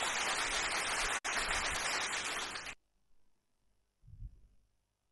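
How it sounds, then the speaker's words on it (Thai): A crowd at a Chiang Mai talent show claps to welcome a performer, producing a dense, loud burst of applause that breaks briefly, then cuts off abruptly, followed by near silence and a short low thump. "ขอเสียงปรบมือต้อนรับกับน้อง"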